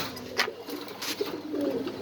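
Soft cooing of pigeons at a pigeon farm, a few short low calls close by, with faint background chatter of birds and no clear speech.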